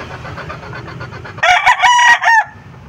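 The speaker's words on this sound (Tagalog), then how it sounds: "Tumitilaok na." A rooster crows loudly and close by, one strong call rising sharply over quieter clucking fowl in the background.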